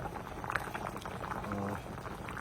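Meat cooks in a pressure cooker, giving a soft bubbling, simmering burble with a brief faint hiss, heard close and quietly on its own.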